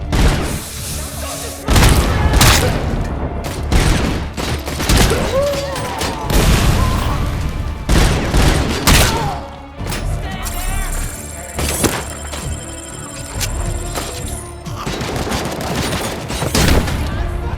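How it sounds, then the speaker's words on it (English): Explosions and bursts of gunfire from the action video game RoboCop: Unfinished Business, with loud booms and rapid shots in a dense battle mix that runs throughout. "I don't know what the explosion was"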